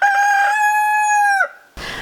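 A rooster crows one long, loud, sustained cock-a-doodle-doo close by, its call falling away at the end before a short burst of noise.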